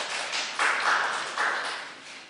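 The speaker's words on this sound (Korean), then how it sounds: "박수로 환영하겠습니다." A church congregation at a Korean Sunday service in Siem Reap, Cambodia, claps to welcome visiting missionary guests. The applause comes in a few swelling bursts, moderately loud and fairly close, with no speech.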